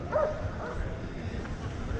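A dog barks and yips once near the start, then whimpers faintly at a rainy roadside stop during a hike, with people talking and ambient noise throughout.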